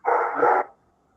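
A dog gives a single loud, close bark, a short double-pulsed burst that cuts off into silence.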